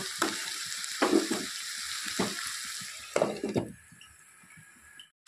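Spring onion stalks frying in fish oil, with a soft steady sizzle broken by several scraping stirs of a spatula against the pan.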